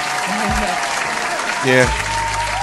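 Studio audience applause on a morning talk show, a steady dense clatter of claps running the whole time while someone speaks briefly over it and a low hum sits underneath.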